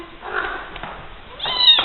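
A pet cat meows once near the end, a rising, clear call after a stretch of quiet room sound with faint voice-like murmur earlier.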